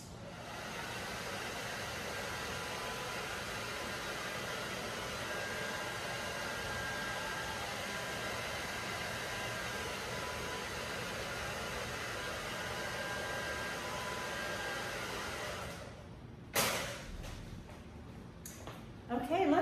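A hair dryer drying paint on a painted pumpkin, a steady loud whooshing blow held for about sixteen seconds before cutting off, followed by a few faint handling knocks.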